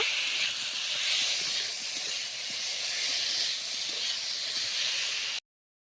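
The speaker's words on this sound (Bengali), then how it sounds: "মুগ ডালটাও এখানে ভালোভাবে একটু কষিয়ে নেব।" Spiced mung dal with potatoes frying in a pan, a continuous loud hissing sizzle that cuts off abruptly near the end, with no talk.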